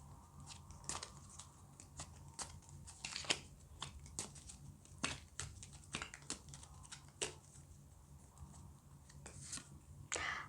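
Tea leaf cards are shuffled by hand, a quiet, close run of soft riffles and taps with irregular spacing across the whole stretch.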